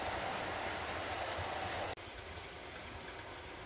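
A model train runs along a layout with a steady low rumble and rolling hum, broken once by a brief dropout, then continuing evenly with no talking.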